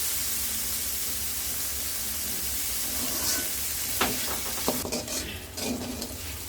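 Bitter eggplant with small prawns fries in a pan, giving a steady close hiss and sizzle, later broken by sharp crackles and scraping stirs.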